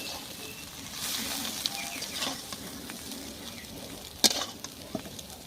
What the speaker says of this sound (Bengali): পুরো লাল লাল করে ডিমগুলো ভেজে নিয়েছি।